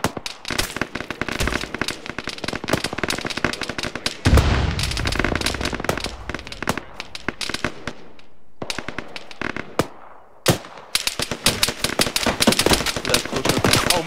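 Gunfire in the video game Arma 3: dense, loud bursts of rapid shots crackle almost nonstop, with brief lulls and heavy booming reports between volleys.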